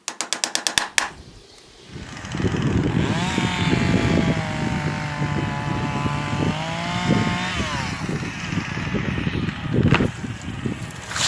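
A Husqvarna chainsaw felling dead standing trees on rural property: a ratcheting pull-start is followed by a loud, steady engine drone that rises and falls in pitch as it revs and cuts, close by and with no talk.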